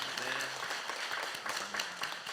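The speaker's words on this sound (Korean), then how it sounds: "이 모든 은혜를 주신 하나님께 먼저 박수로 큰 영광 돌리겠습니다." A church congregation at a Thanksgiving service claps together in praise, a moderate wash of applause with a voice speaking over it.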